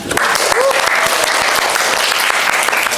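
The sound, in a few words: audience applause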